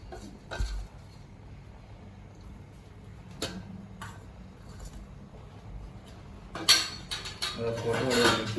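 Roasted spice masala being mixed into spicy Jaffna-style chicken curry in a pot, with scattered close clinks and scrapes of a spoon against the metal over a low simmer, growing busier and louder toward the end, with no talk.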